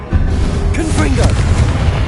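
Loud, booming burst of the Confringo blasting spell in Hogwarts Legacy, a dense rumbling explosion that fills the short span amid ongoing spell effects.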